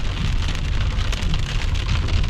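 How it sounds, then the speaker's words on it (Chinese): A heavy downpour at Dangxiong, Tibet, drums densely and steadily on nearby surfaces, a close, continuous roar of rain with no voices. "雨越下越大呀，感觉走不成了"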